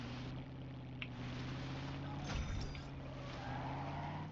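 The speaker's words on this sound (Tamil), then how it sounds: "ஆமா, இதுதான் எல்டிவி. இது ஆர்மர் வெஹிக்கிள்." An armored LTV vehicle drives in the video game Warzone 3, giving a steady low engine drone and rumble that stays constant throughout, with faint rattles and no speech.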